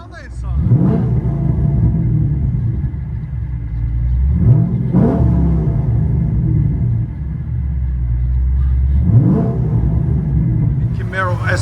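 A cammed Chevy Camaro SS with headers and Dynomax Bullet mufflers revs hard three times over a deep, loud idle rumble, each sharp rise falling back into a lopey, choppy burble.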